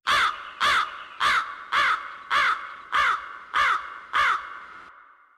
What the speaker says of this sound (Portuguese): desaparecendo atrás das montanhas, Elias ouviu a voz de pássaros que se aproximavam.